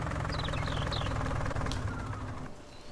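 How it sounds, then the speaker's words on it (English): Tractor engine in the Farming Simulator 19 game, a steady close idling rumble with a knocking pulse that eases slightly toward the end, heard alone without talk. "Alright, back to this tractor."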